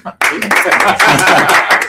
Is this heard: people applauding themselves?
yes